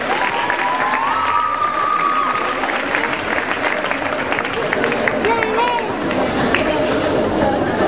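Audience at a 2011 dance competition in Rillieux-la-Pape applauds a duo category act: steady, dense clapping and crowd noise fill the whole stretch, with whistle-like tones and voices mixed in.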